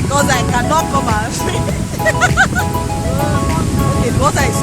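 Ocean waves wash onto Aivoji Beach at Coconut Village in Badagry with a loud, continuous surf roar, while people talk over the crashing water.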